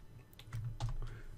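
Numbers keyed into a calculator during an algebra problem, a few light plastic key clicks in quick irregular taps over a low steady hum, close and fairly quiet.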